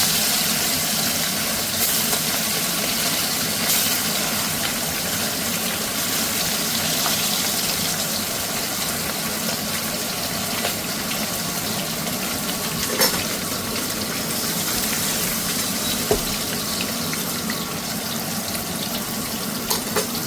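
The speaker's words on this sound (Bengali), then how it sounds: "তেলটা গরম হয়ে গেছে এবার আমি এর মধ্যে পুঁটি মাছগুলো ছেড়ে দিই" Small puti fish frying in hot oil, a steady, loud, dense sizzle that holds evenly throughout with only a few faint clicks and no talk over it.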